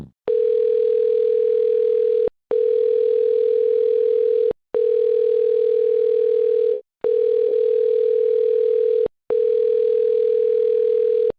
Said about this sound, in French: le téléphone, il peut sonner longtemps